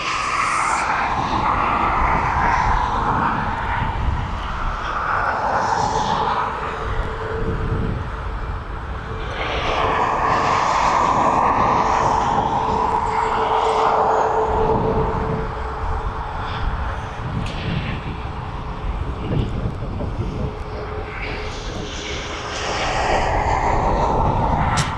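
A Ryanair Boeing 737 taxis toward the runway for departure, its jet engines producing a steady, moderately distant whine and rumble that swells and eases over time, with no talk.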